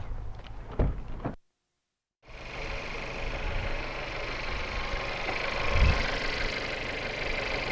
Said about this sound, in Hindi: इंजन हमने स्टार्ट कर दिया। इंजन हमारा इसलिए अब रनिंग रहेगा थोड़ी देर।